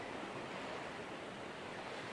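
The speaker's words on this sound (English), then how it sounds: "So this is the beach." Ocean waves wash onto a small beach in Costa Rica in a steady, close, broadband roar of surf with some wind, no voices.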